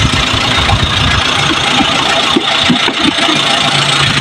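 A 2008 Maruti Swift Dzire car engine runs steadily at idle, close and loud, with a continuous even rumble and no talking.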